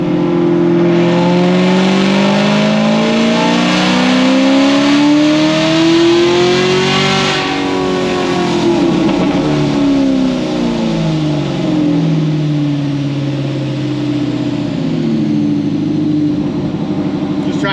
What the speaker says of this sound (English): I'm just putting it back on a dyno to adjust the little things for the converter and just make sure it shifts good